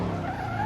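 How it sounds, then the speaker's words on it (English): A Porsche 718 Cayman S, a two-seater mid-engine sports coupe, drives in Assetto Corsa, its engine droning steadily and fairly loud for a brief moment with no voices. "The Porsche 718 Cayman S is a 2-seater mid-engine sports coupe that's known for its balanced handling and solid low-end torque"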